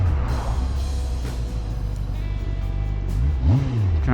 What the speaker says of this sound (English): Trying not to rev it too much here.